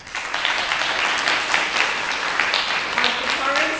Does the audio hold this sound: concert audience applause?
yes